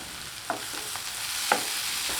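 Two sharp scraping clicks of a spoon stirring egg sukka with chopped coriander in a pan, spaced about a second apart, over a soft steady sizzle.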